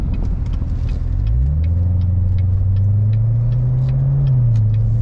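A Chevrolet Corvette C7 Z06 with the Z07 package rumbles deeply while driving, its engine note rising smoothly as it accelerates and then settling into a steady, loud drone, heard close with no talking.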